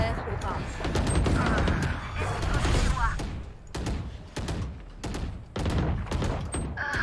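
Gunfire from a Valorant match, including shotgun blasts, comes as several loud bursts and thumps across the clip, under and between excited players talking.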